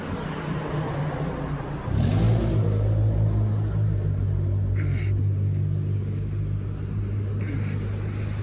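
A city bus rumbles at a street stop, its deep engine drone swelling as it pulls away and holding a steady low growl. Faint traffic sounds sit in the background.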